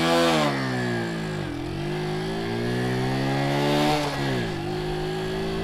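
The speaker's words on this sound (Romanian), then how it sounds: "pot să vă arăt cum pleacă mini motocicleta, micromotocicleta de la 0 la cât merge" A mini motorcycle pulls away hard from a standstill, its small engine revving high and climbing in pitch, then dipping at each gear change before rising again, loud and close throughout.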